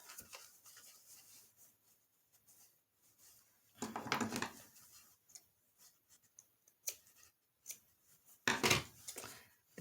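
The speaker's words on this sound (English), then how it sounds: "These are not the best of scissors for this" Scissors snip through crochet yarn on a baby bootie in a few quiet, separate cuts with small ticks and rubbing handling noises between, close by in an otherwise hushed room.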